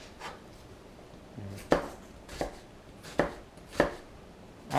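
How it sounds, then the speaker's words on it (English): An onion chopped with a knife on a board, several separate crisp thuds spaced about a second apart, close and clear with quiet pauses between cuts. "I don't know why I'm showing you how to chop up an onion"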